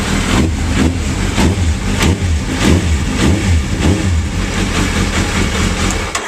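A Suzuki Hayabusa motorcycle engine idles steadily nearby after an oil and filter change, a throbbing mechanical drone with regular pulsing beats and no talking.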